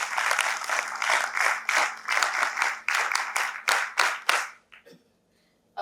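Vigorous applause from a conference audience at the Scholar & Warrior Conclave, a dense burst of many hands clapping in waves that fades out after about five seconds.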